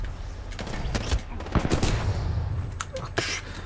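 Gunfire in the shooter video game Titanfall 2, a loud run of rapid bursts and sharp shots with a couple of heavier blasts near the end, over steady game noise.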